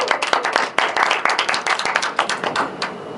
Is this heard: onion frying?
no